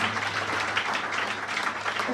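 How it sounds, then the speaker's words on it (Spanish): Many people in a church congregation clap at once, a steady crowd patter of applause heard at a moderate distance over a faint low hum. "Dale un aplauso a Jesús por su palabra."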